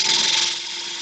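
A negative rake scraper cuts wood on a lathe for a staved bead box, giving a steady hissing scrape that starts louder and then settles to a constant, even tone, close and alone with no talk.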